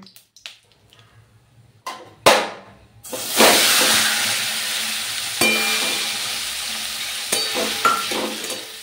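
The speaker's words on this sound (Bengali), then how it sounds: "এখন সর্ষের তেল দিয়ে দিলাম, তারপর দিয়ে দিলাম হচ্ছে রাঁধুনি ফোড়ন।" Radhuni seeds hit hot mustard oil in a pan with a few sharp crackles and knocks, then a loud burst of sizzling that settles into a steady hiss with small pops and stirring, close up and without speech.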